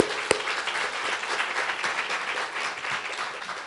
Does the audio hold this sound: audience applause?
yes